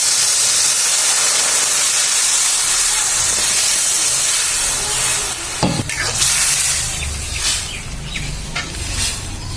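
Lentils (dal) poured into a hot pan of browned fried fish and oil, setting off a loud, steady hiss of sizzling steam with a few sharp spatters partway through.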